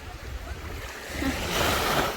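Sea waves wash up a sandy beach at Maamoura, a soft rushing surge that builds and grows louder toward the end over a steady background roar, with no voices.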